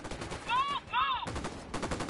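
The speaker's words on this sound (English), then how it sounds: "Fire, fire, fire!" Gunfire in the video game Ghost Recon Wildlands, with rapid bursts of automatic shots crackling over game sound and a brief rising electronic tone in the middle.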